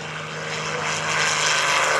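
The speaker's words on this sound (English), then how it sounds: "here comes Charlie Schwenker with the 2-seat extra 300" A two-seat Extra 300 aerobatic propeller plane rolls by at the 2012 Greenwood Lake airshow, its engine drone rising steadily in loudness as it approaches.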